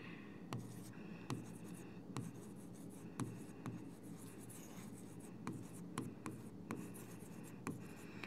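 Handwriting a De Morgan's law formula for a Boolean algebra lesson, likely chalk or marker on a board: faint, irregular scratchy strokes and soft taps come in short bursts over a quiet room hum, with no talking.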